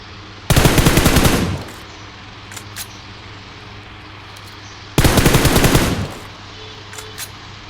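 Two loud bursts of rapid automatic gunfire from a mobile shooting game, each about a second long with a clear pause between them and faint clicks in the quiet gaps.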